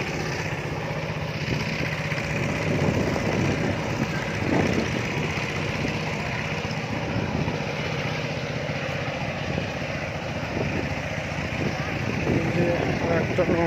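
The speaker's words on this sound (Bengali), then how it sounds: "ভালো ছোট স্টিমার যাচ্ছে খুব দ্রুত গতিতে" A small steamer boat races past on Jabai Beel in Sapahar, Naogaon, its engine a steady, fairly close motor drone that holds level throughout, with voices talking over it.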